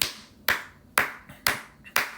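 Five slow, evenly spaced hand claps from one person, sharp and close, each ringing briefly before the next.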